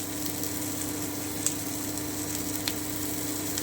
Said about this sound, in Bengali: কিন্তু পেঁয়াজটা একটু ভেজে নিলে স্বাদটা একটু ভালো হয়